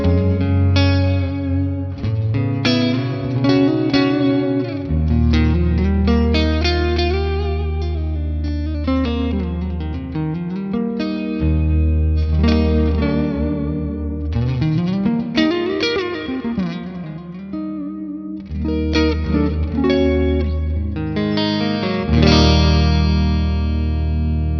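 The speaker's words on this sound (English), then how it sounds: "you can hear there's a bit of a delay before the reverb comes in" Distorted electric guitar plays chords and bends through an ALABS reverb pedal, each note echoing back with a short slapback delay before a washy tail.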